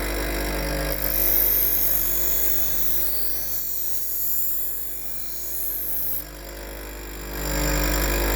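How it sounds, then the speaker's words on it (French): A Laguiole knife blade, the "La Bête du Gévaudan" model by Michel Chambon, is held almost vertical against a grinding wheel, giving a steady, loud, hissing grind that swells and eases as the blade moves across the wheel. "Donc l'aiguisage. Donc on se tient presque vertical par rapport à la meule."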